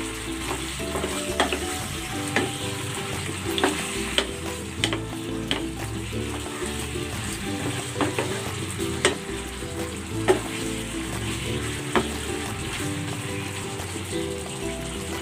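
Braised pork sits in a thick, reduced sauce that bubbles and sputters steadily, with scattered pops and ticks over a constant sizzling hiss, close and fairly loud.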